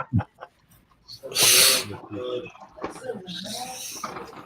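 A single sharp sneeze bursts out indoors among people chatting, briefly loud and close before the conversation continues.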